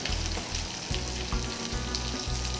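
Chopped onions sizzling steadily in a pan for Mangalorean chicken biryani, a dense close frying crackle with a soft rhythmic stirring pulse underneath, no voices.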